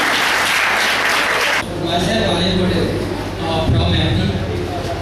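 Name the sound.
audience applause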